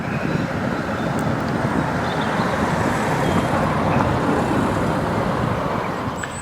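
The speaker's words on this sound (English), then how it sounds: "Sounds like the diesel's coming back now." A diesel locomotive approaches on a heritage railway as a steady, broad rumble that stays loud and continuous throughout, with no voices.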